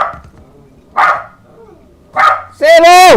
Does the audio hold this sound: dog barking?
yes